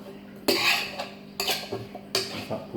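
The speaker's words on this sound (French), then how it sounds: "Ensuite, il me faut une cuillère que je mélange tout ça" A spoon stirs vegan pasta ingredients in a frying pan, giving three loud scraping, clinking bursts against the pan with quieter rattles in between.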